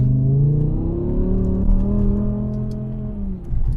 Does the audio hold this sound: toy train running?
no